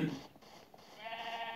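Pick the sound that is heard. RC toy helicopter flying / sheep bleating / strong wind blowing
sheep bleating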